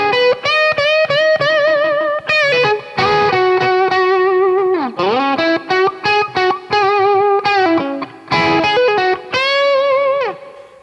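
An electric guitar played on its bridge pickup through a distorted amp, with a biting, saturated tone of sustained notes and quick runs, loud and continuous with brief gaps, and no voices.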